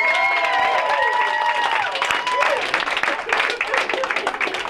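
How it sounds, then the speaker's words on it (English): A comedy club audience applauds and cheers for a comedian, a loud burst of clapping and crowd noise that thins out unevenly over a few seconds, mixed with some voices. "Clap for Chip."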